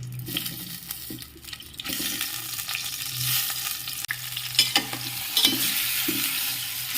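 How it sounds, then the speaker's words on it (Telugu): Stuffed brinjals frying in oil in a pan, a close, steady sizzle with intermittent stirring scrapes and small bumps, a low hum underneath, and no voices. "ఆయిల్ వేసుకొని ఇవి ఒక్కొక్కటి వేసుకొని ఫ్రై చేసుకోండి"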